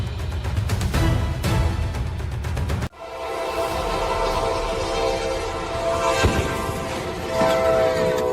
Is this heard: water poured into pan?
no